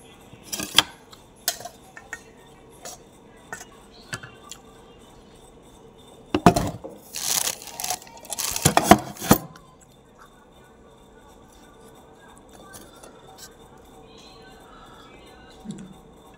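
Dishes and cutlery clink and clatter during a home dinner of spinach with shrimp and fish curry, scattered taps early on, then a dense burst of louder clangs midway before quieting, with no talk.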